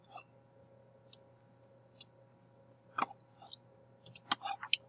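Mouse clicks while sketching in drawing software: crisp, quiet single clicks spaced about a second apart, then a quicker cluster of several clicks at the end, over a faint steady hum.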